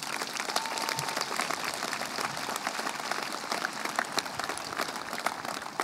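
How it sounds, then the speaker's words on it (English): Graduation ceremony audience at North Quincy High School claps in a sustained, even round of applause from a large crowd, dense and unbroken, with no speech over it. "Give them a round of applause, please."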